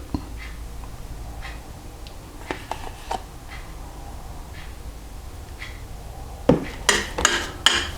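Natural yogurt being mixed into cloud bread batter in a bowl, with sparse soft taps and scrapes, then a burst of quicker, louder utensil clinks against the bowl near the end, close and without speech.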